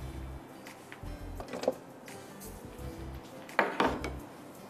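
Lemon herb chicken pasta being served into a dish, with scattered clinks and scrapes of a utensil against cookware, a few sharper metallic taps standing out among quieter shuffling kitchen sounds.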